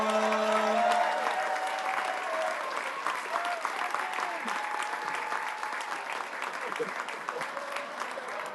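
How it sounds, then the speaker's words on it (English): Audience applause after a student from a middle school is introduced at a unified sports team event, a sustained crowd clapping that stays steady and full throughout, with a brief voice early on. "please give a huge round of applause to Rogan."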